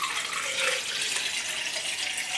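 Water runs steadily from a tap into a cup, a continuous hissing splash at close range with no talk over it.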